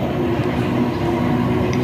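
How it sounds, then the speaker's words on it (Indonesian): An electric commuter train in Jakarta gives off a steady, fairly loud rumble and hum that continues evenly for the whole span, with no voices heard. "Kereta listrik adalah salah satu transportasi umum yang ada di Jakarta."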